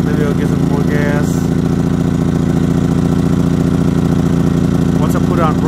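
A Generac iQ2000 portable inverter generator runs close by after being switched from choke to run, its engine droning loudly and steadily with a pulsing, uneven beat throughout. A voice is also heard over it.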